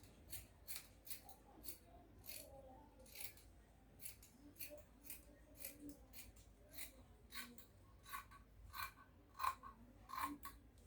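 Scissors cut through ankara fabric with a steady run of quiet, crisp snips, each one short and evenly spaced, close by against a low, soft background.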